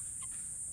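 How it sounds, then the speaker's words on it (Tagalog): A hen from a black Australorp and Rhode Island Red cross gives one brief soft cluck in a free-range area, over a faint steady background hiss. "Ito yung aming black astrolorp"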